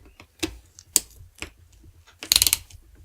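A hand ratchet tightens bolts on a Losi 5ive T parts kit build, with several separate clicking pulls and then a fast run of close, loud ratcheting clicks near the end.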